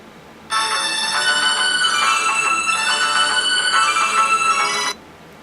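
A loud phone locator alert ringtone from a find-my-device feature starts abruptly after a short pause, rings steadily for about four and a half seconds, then cuts off.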